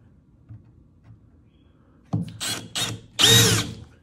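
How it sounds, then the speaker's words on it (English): A power drill bores into a wooden wine barrel in a few short bursts, the last one longest, and the bit snaps partway through. The drilling is close and fairly loud against an otherwise quiet background. "Snap the drill bit."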